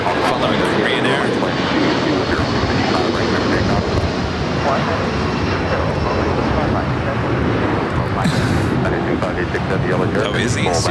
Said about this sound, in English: the second A380 takeoff, following Korean Air